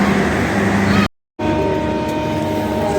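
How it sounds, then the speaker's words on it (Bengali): The Nilsagar intercity express pulling out of platform four at Kamalapur railway station in Dhaka, a loud continuous rumble of the train and station noise, broken by a brief cut, with faint voices around. "আন্তনগর নীলসাগর এক্সপ্রেস চার নম্বর প্ল্যাটফর্ম হতে ছেড়ে যাচ্ছে"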